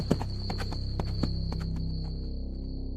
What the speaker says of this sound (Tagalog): Mabilis na pinatakbo ng lalaki ang kabayo niya